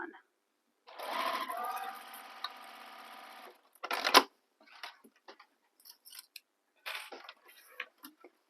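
A sewing machine runs a sustained whirring stitch along the side edges of a bag, then stops; scattered clicks, fabric handling and brief rustles follow in a quiet room.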